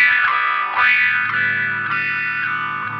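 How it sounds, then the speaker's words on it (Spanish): Electric guitar through an Earthquaker Devices Spatial Delivery envelope filter pedal, playing a few notes while the filter sweeps up and down in a vowel-like wah, upfront and steady, with no voice. "el último potenciómetro es el de filtro, que obviamente lo que estás moviendo es el filtro"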